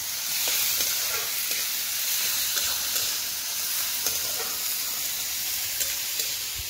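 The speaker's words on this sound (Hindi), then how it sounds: "তো চলো আজ তো আমাদের সবজি রান্না করছে" Vegetables cook in a hot pan with a steady, close sizzle and hiss, punctuated by small pops and faint stirring clicks.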